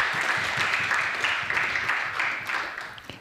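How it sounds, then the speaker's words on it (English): An audience at a spiritual retreat talk claps in moderate, steady applause that carries on for about three seconds before tapering off, with no voices over it. "Give her a round of applause, please."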